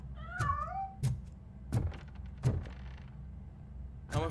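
A cat in RoboCop: Rogue City gives a short rising meow near the start, followed by several heavy thunks and knocks spaced about every second, close and without any voices.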